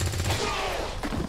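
A quick burst of several overlapping gunshots in XCOM 2, loud and dense across just over a second, with a further sharp report near the end.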